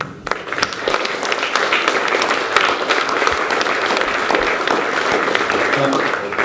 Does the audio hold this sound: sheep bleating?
no